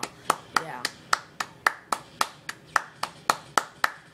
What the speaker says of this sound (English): you should start clapping right now